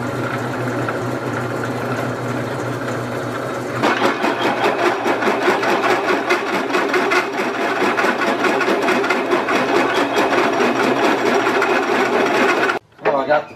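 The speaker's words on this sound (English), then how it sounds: "We'll drill a pilot hole" A drill whirs steadily boring a pilot hole in metal, growing louder and more strained partway through as it bites in, then cuts off briefly near the end.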